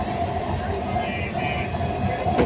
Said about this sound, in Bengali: ট্রেনের মধ্যে বসে আছি, ট্রেন চলছে, ট্রেনের ভিতরে আছি।